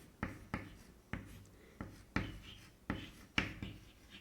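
Chalk or marker strokes on a board land in a series of sharp taps and short scrapes, each followed by a brief drag, close and steady with no voices.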